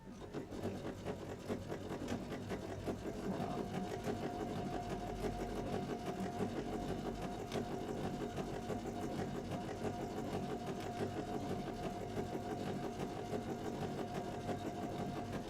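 Sewing machine stitches fabric with a steady, fast mechanical whir and rapid needle ticking, running continuously and fairly quietly with no talk.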